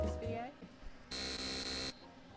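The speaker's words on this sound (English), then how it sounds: "Why are we beeping?" An electronic beep or buzzer tone sounds steadily for under a second, loud and sustained, after a stretch of voice and background sounds in a room.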